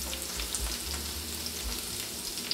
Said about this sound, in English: Sauté 1/2 cup sliced shallots with 2 tablespoons butter and 1 tablespoon olive oil.